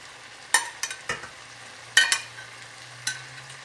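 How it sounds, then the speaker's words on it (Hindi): Chopped capsicum and onion go into a hot pan for chicken jalfrezi, crackling in a few sharp bursts of sizzle over a quiet low hum, with no voices. "कैप्सिकम के साथ ये प्याज डालें।"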